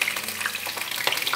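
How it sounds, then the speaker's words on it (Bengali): Pointed gourd (potol) pieces fry in hot oil over a high flame for Bengali potol posto, giving a dense, steady sizzle with soft crackles and a brief clink, close and fairly loud. "এইভাবে একটু ভেজে নেব পটলগুলোকে।"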